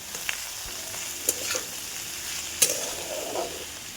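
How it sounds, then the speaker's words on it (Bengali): Mustard greens frying in a wok with oil, dried and green chilies and turmeric, a soft steady sizzle with a few spatula clinks and scrapes, no voices. "শাকটা ভেজে নিচ্ছি।"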